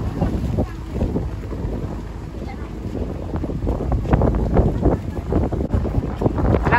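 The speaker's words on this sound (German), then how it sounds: "Bây giờ thì mình sẽ lại đi tàu." A boat ride on a river in Vietnam's Mekong Delta region, with engine rumble, wind buffeting the microphone and water noise, while people talk over it.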